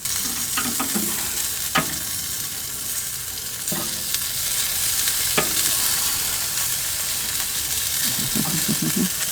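Smoked sausages sizzle on an Oklahoma Joe smoker grate in a constant bright frying hiss while being flipped by hand, with a few sharp clicks and taps of handling scattered through.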